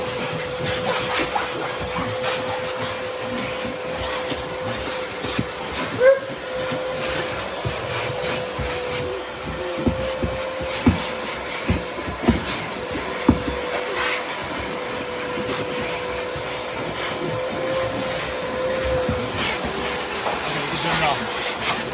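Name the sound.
vacuum cleaner cleaning Acura Integra car interior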